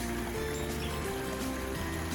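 Creek water flows in a continuous broadband rush, loud and close throughout, with no pauses and faint low tones running underneath.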